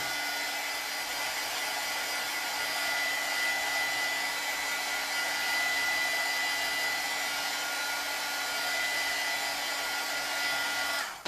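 A hair dryer blows continuously to dry a craft surface: a steady, close, broadband whooshing hum with a faint whine, unbroken for about eleven seconds before cutting off, with no voices.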